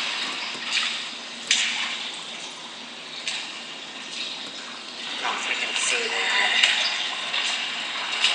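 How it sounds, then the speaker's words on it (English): Continuous splashing and trickling of a tiny waterfall close by among rocks, a steady watery rush with brief louder splashes, voices occasionally heard over it. "There's like a tiny little waterfall at the end of it."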